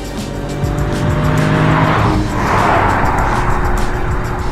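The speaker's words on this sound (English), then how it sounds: "The Toyota Gazoo Racing Yaris." A 2020 Toyota Gazoo Racing GR Yaris rally homologation hatchback is driven hard: loud, continuous engine noise with tire squeal and skidding, the pitch rising and falling as it works close by.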